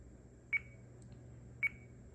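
A Radiolink RC8X radio transmitter gives two short, sharp electronic beeps about a second apart, clear and close against a quiet background.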